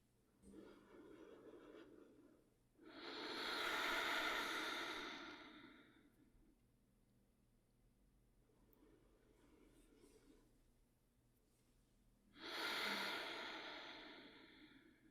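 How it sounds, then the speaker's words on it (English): Two long, deep yoga ujjayi breaths with a soft oceanic rasp, each swelling for about three seconds, separated by quieter breathing; close and fairly faint, no talking. "3 full deep breaths in downward dog. Can you return to that ujjayi style of breathing?"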